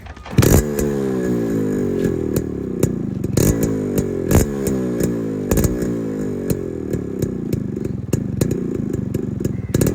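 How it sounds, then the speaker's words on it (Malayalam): A restored Yamaha RX 135 two-stroke motorcycle idles and revs nearby, its exhaust note a loud steady buzzing thrum punctuated by several sharp throttle blips and crackles. "നമുക്ക് വണ്ടിയുടെ എക്സോസ്റ്റ് നോട്ടും കൂടെ ഒന്ന് കേൾക്കാം."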